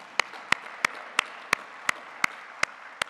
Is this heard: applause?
yes